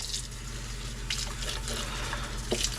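Stock being poured into a pan for bordelaise sauce gives a steady liquid splash and trickle, fairly faint and continuous, with a low kitchen hum underneath.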